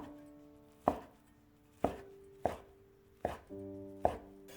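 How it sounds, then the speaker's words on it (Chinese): A knife chops a thin fried egg omelette into fine strips on a cutting board, five sharp, separate thuds spaced about a second apart, close and clear with quiet gaps between them. "放在案板上，从中间对半切开，再叠放在一起，给它切成细丝"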